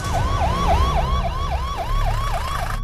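Ambulance siren from a Bhojpuri film wails in a steady, rapid up-and-down cycle, loud and close throughout, with a low engine rumble underneath and no talking.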